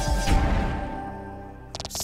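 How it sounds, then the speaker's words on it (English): Explosions from the video game Voice of Cards: The Isle Dragon Roars, a booming blast that decays over about a second, then a quick rapid cluster of short bursts at the end. "Still love the goddamn explosions at the end."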